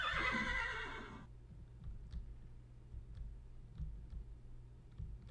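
A pony neighing in the Minecraft video game, one loud, close whinny lasting about a second, followed by quiet scattered clicks and faint thumps.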